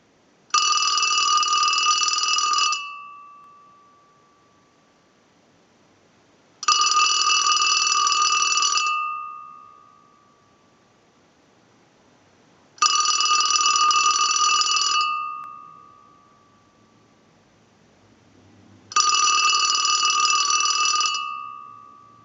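An old marble-top table telephone converted to modern service rings its bell in four evenly spaced bursts, each about two seconds of clear metallic ringing followed by a short decay and silence.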